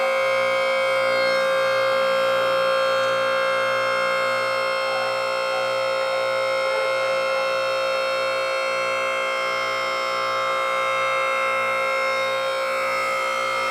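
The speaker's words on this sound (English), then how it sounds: "Hopefully you can hear me over the whining of the hydraulic pump." A hydraulic pump in a garage working on an MGA gives a steady, loud, whining drone with a faint pulsing underneath, continuous for the whole stretch with no talking.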